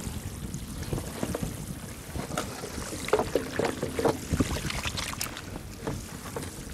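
Molten material from old picture frames bubbles steadily in a pot, a continuous low gurgling and seething with a few brighter pops, fairly quiet and alone.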